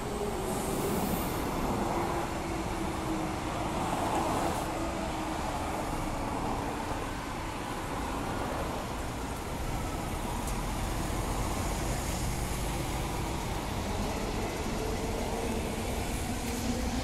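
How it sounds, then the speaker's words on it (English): A train rolls into a railway station at Warwick, coming down a grade, its steady rumble and wheel noise filling the scene continuously and loudly with faint high squeals, no talking. "There's a train coming down the hill, entering the station."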